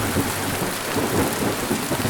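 Steady, dense rain falls outside at night, a continuous loud wash with occasional low rumbles of thunder and no voices.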